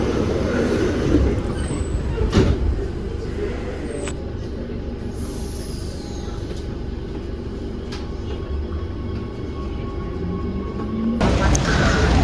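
Steady low rumble of a metro train interior in motion, with rail clatter, occasional squeals and brief hisses, a constant loud drone throughout.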